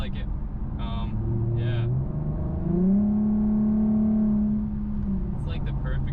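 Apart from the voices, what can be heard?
Infiniti Q50 custom exhaust revving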